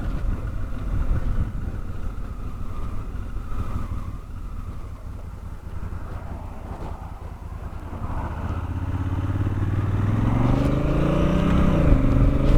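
A 2017 Honda Africa Twin DCT motorcycle on the move with the throttle held open through a paddle gear change, a loud steady engine drone that rises in pitch toward the end.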